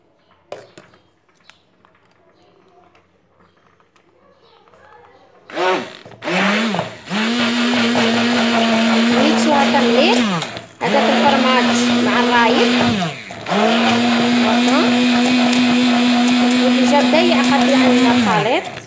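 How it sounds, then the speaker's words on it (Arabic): An electric mixer blends triangle cheese portions with raib buttermilk into a spread, running loud and close in steady whirring bursts with brief pauses and pitch dips between them, after a quiet start. "الميكسي هادو نستعملو ميكسر."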